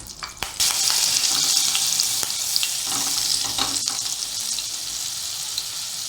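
Oil and butter heat in a kadhai for pav bhaji, sizzling and frying steadily at close range, with a few clinks at the start and no talk over the continuous hiss.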